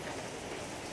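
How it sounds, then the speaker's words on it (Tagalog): Steady rain pours down on a rainy day, a dense even hiss of drops with no voices or other sounds over it, fairly faint and constant throughout. "Dahil po umuulan, kailangan po ni Bamboo na makabiyahe ng hindi po siya nababasa."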